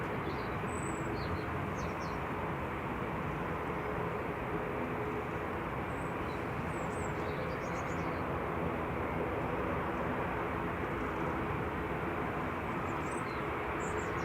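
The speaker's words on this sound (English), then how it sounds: "EasyJet A320 Classic Gs at TG departing to Amsterdam next" An EasyJet Airbus A320 departing Manchester Airport produces a steady, broad jet roar that persists throughout at moderate distance, with faint birdsong chirps above it.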